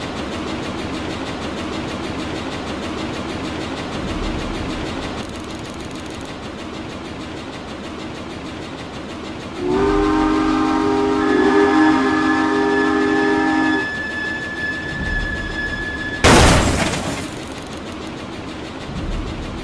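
A train pulls into a station and halts: a rumbling engine, then a loud steady whistle-like tonal blast for several seconds, followed by a brief burst of hissing noise near the end.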